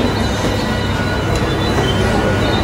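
Mumbai slow local train bound for Parel at a station platform, a close, loud steady rumble of rolling railcars with faint wheel squeal.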